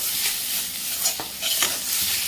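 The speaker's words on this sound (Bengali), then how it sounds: "তারপরে আবারও একটু নেড়ে চেড়ে নিচ্ছি" Grated radish sizzles in a pan while a utensil stirs it, a close, constant frying hiss broken by a few scraping strokes.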